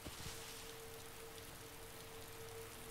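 Rain falls in the video game ArmA 2 DayZ as a soft, steady hiss, faint and continuous with no other distinct sounds over it.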